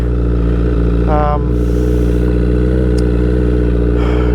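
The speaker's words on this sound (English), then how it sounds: "for right now I'm just going to let the bike warm up" A 2009 Honda CBR1000RR Fireblade with ongoing mechanical problems idles while warming up, a loud, steady, close engine drone with a constant low throb and a brief higher tonal burst partway through.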